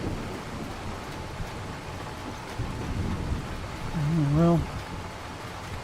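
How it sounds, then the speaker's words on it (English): Steady outdoor rain falling as a dense, continuous hiss with low rumbling underneath; someone speaks briefly near the end over the downpour. "ordinarily I'd wait for the rain to stop"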